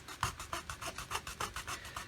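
Wooden parts, already assembled, being sanded by hand in a steady back-and-forth rhythm of about eight raspy strokes, close and fairly loud, with no voices.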